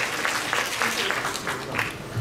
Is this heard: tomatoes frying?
no